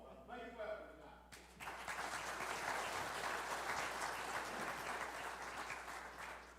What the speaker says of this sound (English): I rarely get applause at the end, much less the beginning